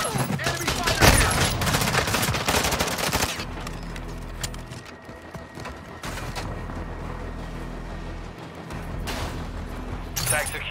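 Loud rapid automatic gunfire bursts in Call of Duty: Modern Warfare II multiplayer on the Himmelmatt Expo map. Heavy volleys rattle at the start, and sporadic shots and explosions follow under game chatter.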